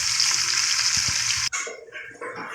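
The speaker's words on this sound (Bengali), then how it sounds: "আলু ভাজা হচ্ছে, আমি টেস্টের জন্য হালকা ভাজা" Potatoes fry lightly in hot oil, a loud, steady close-up sizzle that cuts off abruptly partway, leaving quieter, uneven kitchen sounds.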